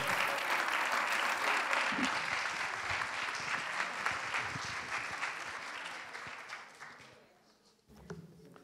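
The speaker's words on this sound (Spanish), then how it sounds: "Fort aplaudiment gracias a todos." Warm applause fills the room at a TMB sustainability and mobility conference, a sustained clapping crowd that fades out near the end before a brief voice returns.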